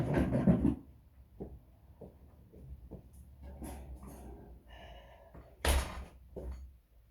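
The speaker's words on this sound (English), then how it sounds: "Let's shut the door." A door bangs shut nearby with a sharp, loud thud near the start. Softer knocks and handling sounds follow, and a second heavy thump comes later in a quiet room.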